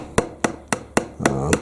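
Sharp hammer blows on a 3/4-inch electro-galvanized steel poultry staple, six distinct metallic strikes at a steady rhythm, close and loud, the last two ringing longer.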